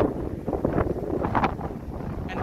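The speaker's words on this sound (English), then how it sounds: "The wind is strong." Strong, gusty wind sweeps across the water at Laughlin during a sudden sandstorm on a jet ski outing, a steady close roar buffeting the microphone with no voices.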